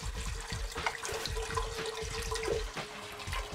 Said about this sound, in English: Now you want to add the whole bottle of wine to your pot.